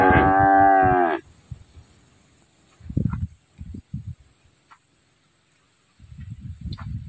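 Cattle at a cow farm in Phuoc Loc: one loud, close, drawn-out moo opens, followed by quieter low lowing and shuffling sounds from the herd.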